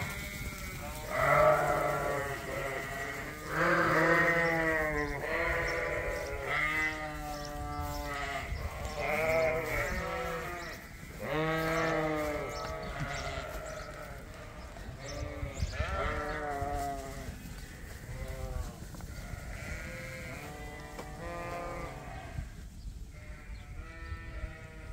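Sheep and lambs bleat over and over while they are sorted on a farm. The calls overlap and repeat, loud and close at first, then fade to fainter bleats.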